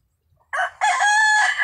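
A 10-month-old Sweater Kelso rooster crows close and loud, a short opening note followed by a long, strained cock-a-doodle-doo call.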